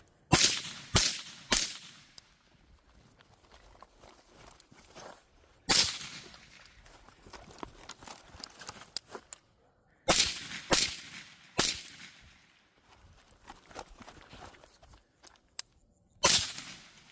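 Carbine gunshots ring out on an outdoor shooting range: sharp, loud cracks in short clusters of two to four, separated by quieter stretches of faint background noise.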